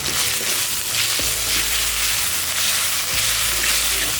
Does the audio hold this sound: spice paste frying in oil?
yes